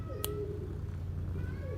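A cat at a barn meows once clearly up close, with a soft, low continuous rumble of purring underneath throughout.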